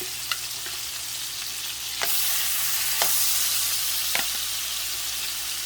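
Shrimp frying in a pan give a steady, close hiss of sizzling oil, broken by a few sharp clicks and taps of utensils stirring. No one speaks.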